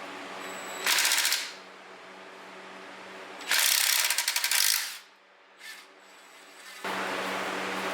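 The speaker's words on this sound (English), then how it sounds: "So you want to go ahead and remove the bolts in a sequential order." A ratchet loosening intake manifold bolts on a Ford Focus RS MK3, heard as several bursts of rapid, loud clicking close up, with pauses between them and a steady low hum underneath.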